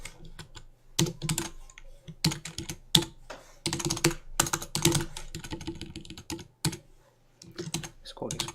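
Typing a title on a computer keyboard, close bursts of rapid key clicks separated by short pauses.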